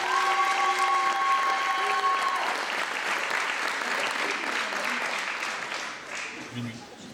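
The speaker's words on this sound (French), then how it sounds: "On peut les applaudir." An audience applauds at the Miss Belle en Forme NPDC 2025 pageant, a dense, steady clapping that fills the room and slowly thins toward the end, with faint tones and voices beneath it.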